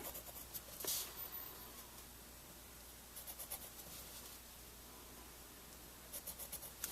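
Pencil making marks on paper for a portrait drawing, faint short scratchy strokes in small clusters, close and quiet with pauses between them, no talking.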